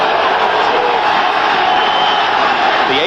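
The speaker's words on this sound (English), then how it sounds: "The 84th consecutive sellout crowd at Three Rivers Stadium roaring for the Steeler defense" A sellout crowd at Three Rivers Stadium roaring for the Pittsburgh Steelers defense during a 1982 NFL game against the New England Patriots, a dense, continuous roar that stays loud and unbroken.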